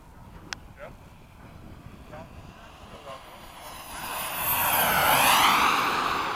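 An Ultra Flash model turbine jet runs at about half throttle, starting as a faint whine and swelling into a loud, rushing roar with a sweeping pitch as it passes close by.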